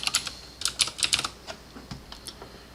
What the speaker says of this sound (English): at the top I'm going to type concrete